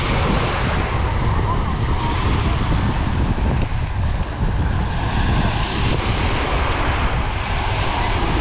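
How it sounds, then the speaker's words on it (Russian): Steady wind blows across Kalipso beach at Lazarevskoye near Sochi, a continuous broad rush of breeze over the shore with a wash of surf beneath it, constant and fairly loud throughout with no clear voices. "Ветерок дует такой приятный."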